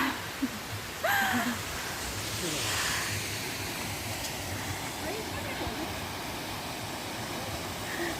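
A winter waterfall, partly frozen into ice, gives a steady, fairly soft rushing roar that continues without a break and sounds moderately distant.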